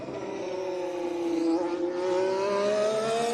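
A Red Bull Formula 1 car at Bahrain winter testing brakes into a corner and accelerates out, its high engine whine dipping then climbing steadily in pitch, heard from a distance.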